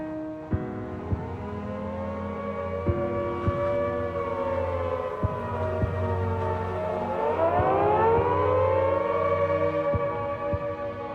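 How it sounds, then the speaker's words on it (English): A WWII air raid siren wails alone, a steady tone that rises and falls in long, swooping sweeps, with a few sharp clicks scattered through it. "Every time I heard the siren go, my stomach turned over."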